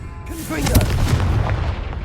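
Confringo blasting spell from Hogwarts Legacy, one sharp booming explosion that bursts loudly and then rumbles and crackles as it fades.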